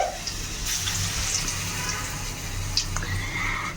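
Battered bajji slices frying in hot oil, a continuous soft sizzle and crackle with faint pops, close and steady throughout.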